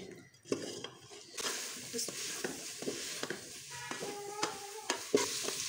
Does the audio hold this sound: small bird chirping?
no